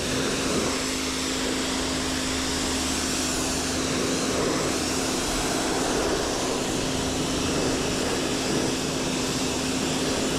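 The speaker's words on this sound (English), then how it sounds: "So we're gonna get the pressure washer, clean it up." A pressure washer sprays dirty wheels clean after a brake installation, a steady, loud, unbroken roar with a constant motor hum underneath, running without a break throughout.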